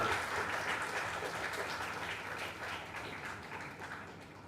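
Audience applause at a summer school event in computational linguistics, a short burst of many hands clapping that slowly fades, moderately distant.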